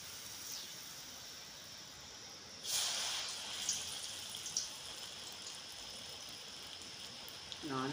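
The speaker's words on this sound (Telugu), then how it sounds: "కొంచెం నీళ్ళు వేద్దాం. చక్కెర బాగా కాలింది." Water is poured onto well-caramelised sugar in a non-stick pan, giving a sudden faint hissing splash after quiet, then a fading sizzle with a few small spits.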